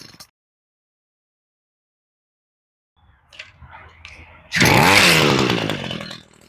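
A Homelite chainsaw with a newly replaced carburetor comes in after near silence, first with faint rustling and low sputters, then a loud, close engine roar that holds for about two seconds before easing off.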